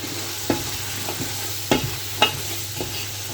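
A spoon scrapes and stirs boiled chickpeas through frying masala in a pan a few times over a soft, steady sizzle.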